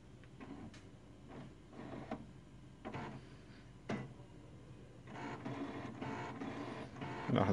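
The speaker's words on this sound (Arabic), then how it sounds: "لو شغلنا الطابعة" A quiet HP Deskjet 1510-series inkjet printer starts up, clicking and whirring in short mechanical bursts, then a longer grinding run near the end.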